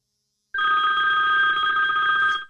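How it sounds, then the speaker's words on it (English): A phone rings close and loud after a short silence, one sustained electronic bell-like ring lasting about two seconds before cutting off, with no talking over it. "Sorry, that was my phone."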